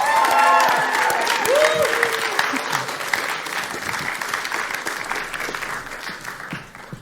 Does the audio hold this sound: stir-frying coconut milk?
no